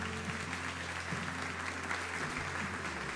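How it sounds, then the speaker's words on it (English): Church congregation applauding a visiting guest speaker, a steady sustained wash of hand claps filling the room, loud and continuous with no break. "let's give him one more big hand clap."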